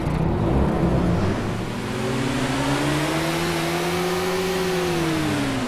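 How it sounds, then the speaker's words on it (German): Engine of a BRDM armoured vehicle in a video game starting and revving, a steady mid-pitched drone with a slowly rising and falling tone, fairly loud and continuous throughout. "Das hat einer von denen den Motor angelassen."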